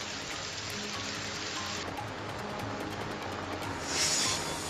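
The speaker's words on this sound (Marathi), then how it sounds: "सिंधुदुर्ग जिल्ह्यात चार दिवसांच्या विश्रांतीनंतर पावसानं दमदार हजेरी लावली आहे" Steady rain falling in Sindhudurg district during a heavy monsoon downpour, a dense continuous hiss with scattered drops, heard alone throughout.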